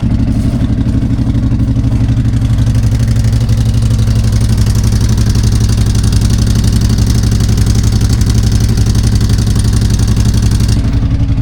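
A CFMoto Uforce 1000XL side-by-side with a GSE Performance CAD delete and aftermarket muffler idles loudly and close by, a deep, steady throbbing exhaust pulse that holds unchanged throughout.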